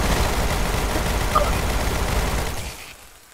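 Gunfire from the survival shooter Decaying Winter rattles on as a loud, continuous barrage that tails off sharply near the end into near silence.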